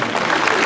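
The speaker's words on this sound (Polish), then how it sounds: "przywitajmy jej gromkimi brawami!" Applause from an audience greeting a gospel singer at a Women's Day community event in Rzeczyca, a short steady burst of clapping with a faint crowd murmur.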